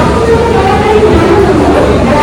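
A loud, steady rumble of a train fills a railway station platform in Rourkela, with a faint hum of people in the background.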